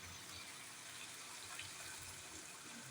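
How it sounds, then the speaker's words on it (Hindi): Water pours steadily into a pot of cooking minced meat for matar qeema, a continuous close gushing splash with no voices. "अब इसमें हम पानी डाल देंगे"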